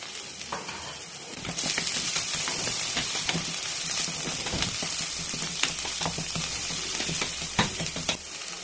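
Beans, carrot and onion sauté in a pan for red poha upma, a loud sizzle that swells as the vegetables go in, then steady frying hiss with scattered spatula taps and scrapes, close up, no speech.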